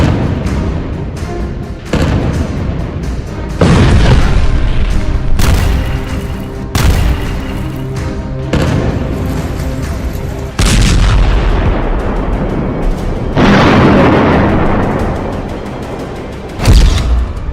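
Bombardment and artillery fire in news footage of the Gaza Strip: a rapid series of loud, heavy booms and blasts, one after another, each with a rumbling tail.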